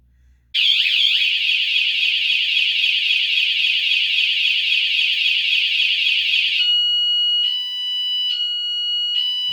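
A loud electronic bicycle alarm box, advertised at 113 decibels, shrieks continuously at a high pitch, then shifts into a pulsing, intermittent tone near the end.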